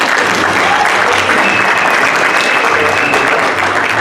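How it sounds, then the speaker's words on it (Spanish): Audience at a church event applauding steadily and loudly, a dense wash of clapping that holds at an even level throughout with no break and no distinct voices. "Un aplauso."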